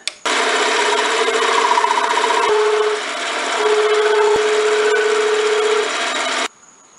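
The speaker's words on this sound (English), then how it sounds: "Now I'm going to put a little chamfer on the end." A lathe cuts a chamfer on the end of a spinning top with a tungsten carbide tool, a loud, steady whirring grind with a thin tonal whine running throughout before it stops abruptly.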